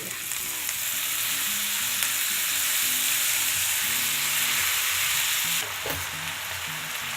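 Spinach sizzles hard in a hot pan with turmeric, a loud and continuous hiss of frying broken by a few scraping stirs, then easing slightly near the end.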